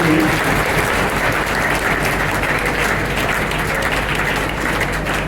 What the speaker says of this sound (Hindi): एक बार सब अपने लिए तालियां बजाएंगे।